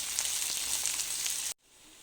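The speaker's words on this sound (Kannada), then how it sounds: "ಇದೆಲ್ಲ ಹಾಕಿ ಆಯಿಲ್ ಫ್ರೈ ಮಾಡ್ಕೊತಾ ಇದ್ದೀನಿ." Cashews, coconut, garlic, ginger, cinnamon and cloves frying in oil in a pan, giving a bright, steady sizzle heard up close that cuts off abruptly into near silence.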